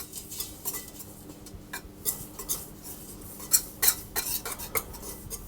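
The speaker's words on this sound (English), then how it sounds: "And I'm going to give those a mix around." Plain, bread and rye flours with salt and fennel seeds stirred in a bowl, a steady run of light scraping and clinking of a utensil against the bowl, close and without talk.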